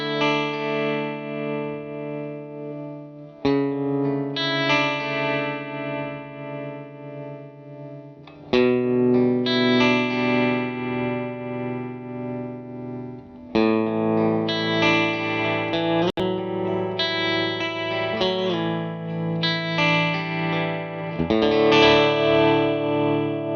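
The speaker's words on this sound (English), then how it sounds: "as you can hear, a really great sounding trem" Electric guitar run through a Starla tremolo pedal, chords and arpeggios ringing with a pulsing, wavering volume, several phrases separated by brief pauses, close and clear with no talking.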